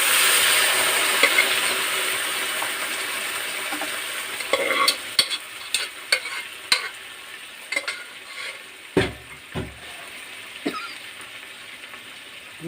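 Boiled ingredients and their cooking water are tipped into hot sizzling tempering: a loud initial hiss that settles, then a run of scraping stirs and clatters against the pan, with no speech.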